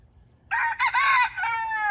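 A rooster crows once nearby in a garden yard, a loud, harmonic call beginning after a brief quiet moment and stretching into a long drawn-out final note.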